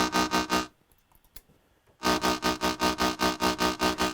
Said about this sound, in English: But then I've got the Logic's distortion.